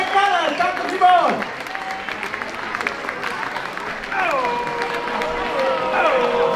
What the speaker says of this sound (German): Ja, dann noch ein riesen Applaus da